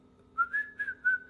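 A person whistling in imitation of a bird, four short rising-and-falling whistled notes in quick succession, clear and close over a quiet background.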